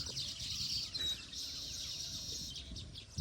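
Weaver birds in a village, chirping near their hanging nests: quiet, high, rapid twittering and tweets, fairly distant, over a faint background hush.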